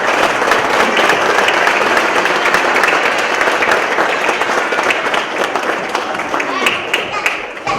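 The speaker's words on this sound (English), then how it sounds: "So another round of applause real quick." Audience applause at a Cub Scout pack crossover ceremony, a dense sustained clapping from a seated crowd lasting the whole stretch at steady loudness.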